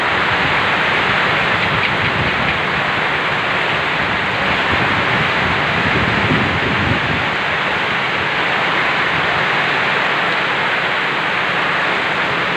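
Heavy typhoon rain pours in a dense, unbroken roar at close range in Ilocos Norte, Philippines, loud and constant, with no gaps or voices.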